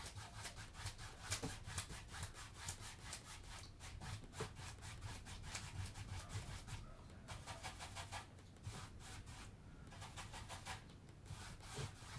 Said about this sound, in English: I was scrubbing it into the canvas